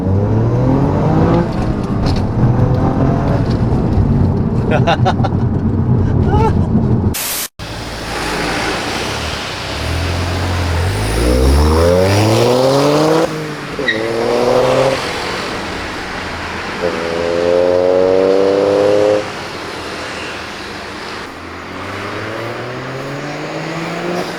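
A Toyota GR Yaris engine with a catless downpipe revs repeatedly, rising and falling in pitch through the gears with a raspy exhaust note, moderately loud and close.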